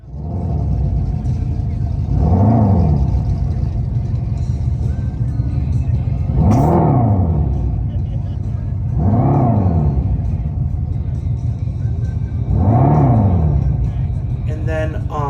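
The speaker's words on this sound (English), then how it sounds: "The Fratsonic chambered exhaust, I went through all the details on there about how, what it sounds like" A 2024 Dodge Charger Scat Pack Stage 2 with the Fratzonic chambered exhaust revs four times, each a loud rising-and-falling swell about three seconds apart over a steady low rumble, with no talking.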